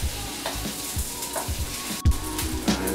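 Chopped onions frying over high heat for a vegan yaki udon stir-fry, a steady close sizzle broken by regular scraping stirs of a utensil in the pan, with one louder clatter near the middle.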